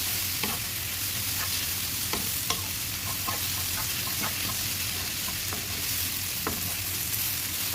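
Beef fry stirred constantly in a pan during deep frying, a loud continuous sizzle punctuated by repeated sharp scrapes and taps of the spoon against the pan.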